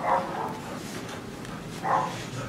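Two short barks from a dog, one near the start and another about two seconds later, over a steady background hiss.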